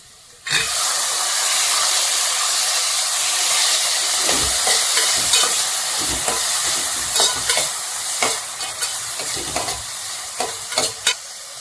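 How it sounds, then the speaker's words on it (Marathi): Chopped onion and tomato fry in an open pan: a loud, steady sizzle that runs throughout, broken by repeated scraping clicks of a spoon stirring, with no talking. "असं बरं फ्राय करून घेऊया."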